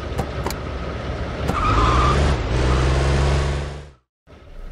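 Car from the video game Scarface arriving with a loud engine roar and a long tire skid across the middle, ending abruptly in a brief silence before faint game ambience resumes.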